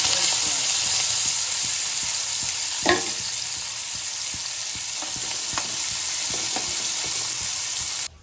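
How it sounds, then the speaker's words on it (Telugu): Steady, close sizzling of onions frying in hot oil, with a few soft stirring clinks and no talking. "గిన్నె తీసుకొని దీంట్లో కొద్దిగా అంత ఆయిల్ పోసుకొని దీంట్లో ముందుగా కట్ చేసిన ఆనియన్స్ వేసుకొని"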